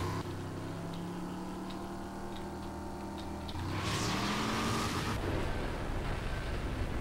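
Car engine in the video game RAGE, a steady close drone that surges into a loud rev and rushing burst midway, then carries on at a higher pitch, with no talking.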